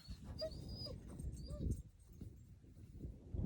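Dog whining: thin, high whimpers come in short bursts at fairly low volume, mixed with soft rustling and shuffling close by.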